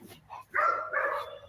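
Close, loud barking from a protection dog in bite-work training, a short yip followed by two sustained, harsh barks in quick succession.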